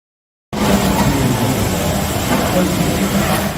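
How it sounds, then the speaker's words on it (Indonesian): Overlock sewing machines run together in a workshop at the Class 1 prison in Malang, East Java. After a brief silence, a dense, steady mechanical whir starts abruptly and continues at an even loudness. "suara mesin jahit obras terus terdengar di salah satu gedung lapas kelas 1 Malang"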